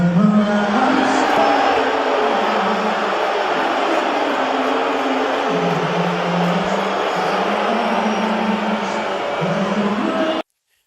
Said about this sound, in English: Ooh, they booed his ass.